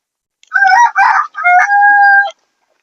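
Desi country chickens on a Pune farm, including a broody hen sitting on eggs, give a clear close crow and clucking calls in a few short bursts, with no talk over them.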